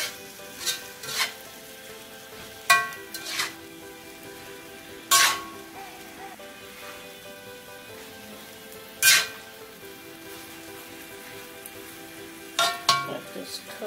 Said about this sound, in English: Let this cook. Let that broccoli get a little tender.